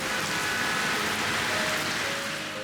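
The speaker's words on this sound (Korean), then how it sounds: "집에 가는 길에 갑자기 소나기가 또 내려서 잠시 쉬고 있습니다" A sudden rain shower falling on a city street in the Ikseon-dong area of Seoul, a steady, even hiss of raindrops with no pauses and no voices.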